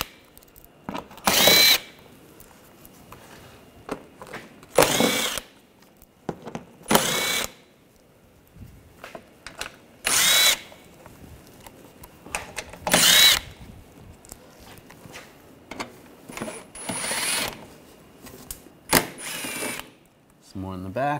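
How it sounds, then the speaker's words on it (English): A power driver with an 8mm socket backs screws out of an interior panel on a 2009-2013 BMW 328i, giving about eight short whirring bursts separated by quiet pauses, close and clear. "Using a 8mm socket, we want to take these screws out."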